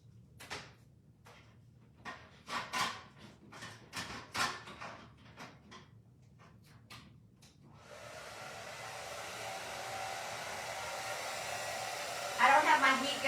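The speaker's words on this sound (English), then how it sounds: "so we're gonna use my nice blow dryer." A hair blow dryer runs steadily and loudly, drying a craft piece that looks like an owl with ponytails, after a stretch of scattered clicks and handling knocks; the drone holds to the end.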